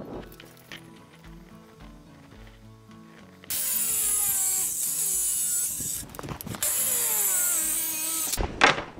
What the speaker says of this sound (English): Well, that's easily fixed because now I'll have to cut it to size.